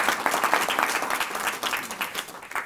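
Audience applause at a university memorial lecture: a crowd clapping steadily with dense, overlapping claps throughout, moderately loud and without speech.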